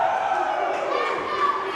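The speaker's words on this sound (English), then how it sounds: "This crowd loving Kal Jak here tonight." Packed wrestling-show crowd at an APW Gym Wars event, roaring and cheering in a steady, loud wash of many voices for a brief moment.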